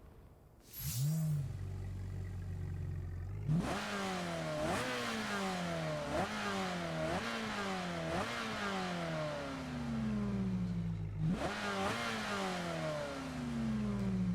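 A Ferrari 16M in the racing video game Solar Crown starts up, then revs hard through repeated rising gear pulls, each climb dropping at the shift; the loud engine note runs throughout with no talking.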